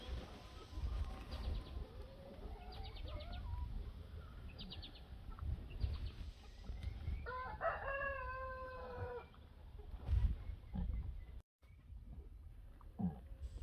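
Farmyard chickens cluck and a rooster crows at moderate distance. The birds chatter in bursts against a soft outdoor background, and one clear crow rises near the middle.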